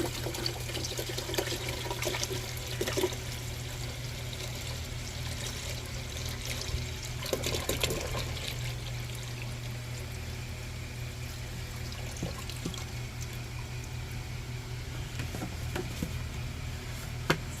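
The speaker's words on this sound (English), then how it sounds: "Pour apple cider vinegar in here." Apple cider vinegar pours steadily into a container for a bushcraft project, a continuous close trickle and splash that runs without pause over a low constant hum.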